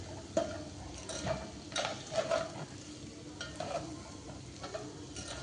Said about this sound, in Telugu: లోలో పెట్టుకొని కలుపుతూ ఉండాలి, లేకపోతే ఇది మాడిపోతుంది